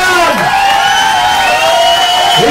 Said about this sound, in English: Ladies and gentlemen, a massive round of applause for Mr.